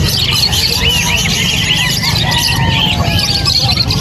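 Caged birds at a busy pet market in Angeles City squawk and squeal in a continuous dense chorus, with repeated shrill calls layered over steady crowd noise and faint voices.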